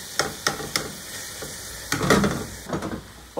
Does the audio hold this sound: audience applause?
no